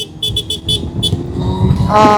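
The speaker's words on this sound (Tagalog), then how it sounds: "Okay din yung busina. Hindi sobrang hina, hindi rin sobrang lakas." Horn of a CFMoto 750SR-S sport motorcycle, sounded close by in a quick series of short toots followed by one longer honk, over a low background rumble.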